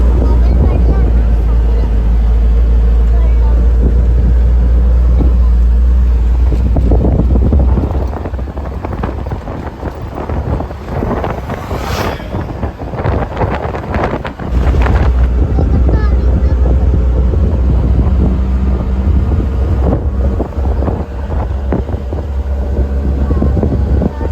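A loud, continuous auto rickshaw engine drone with heavy wind buffeting, riding in the open vehicle, steady throughout with occasional rattles.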